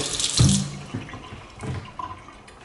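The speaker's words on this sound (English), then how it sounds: "Here's the stainless steel sink. Water pressure in this building is good. Drains nicely." Water from a tap runs into a stainless steel sink and drains away, a soft continuous splash and gurgle with a few small knocks, fairly quiet and close.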